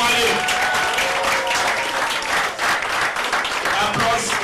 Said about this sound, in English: The applause is loudest and it speaks for itself.